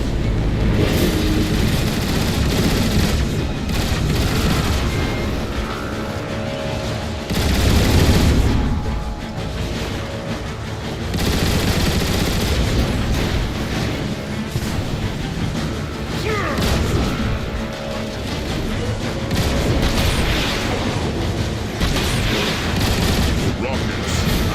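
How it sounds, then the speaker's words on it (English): Turret fire in the Transformers War of Cybertron video game: dense, continuous bursts of blasts and booms layered over loud battle noise, with occasional heavy impacts. "Decepticons, man the turrets and blast that obsolete Hulk out of the sky!"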